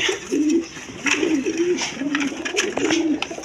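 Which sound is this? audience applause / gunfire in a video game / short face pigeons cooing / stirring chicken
short face pigeons cooing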